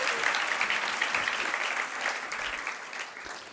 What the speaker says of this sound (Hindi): तालियां धीरे धीरे बज रही है